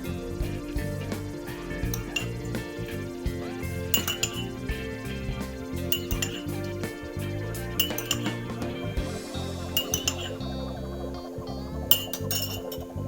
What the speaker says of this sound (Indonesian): aku tambahkan 6 sendok makan air